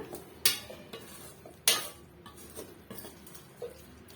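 Tomato pickle being stirred together with coriander leaves in a pan off the heat: quiet soft scraping broken by two sharper metallic clanks of the spoon against the pan.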